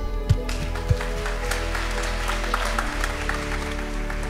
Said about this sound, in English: I would like you to applaud them warmly for their fantastic contribution